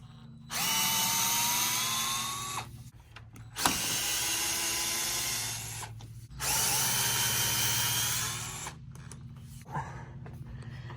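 A power drill or impact driver with a 10 mm socket removes headlight bolts on a Ford F150. It runs in three long, loud whirring bursts of about two to three seconds each, with short pauses and clicks between them.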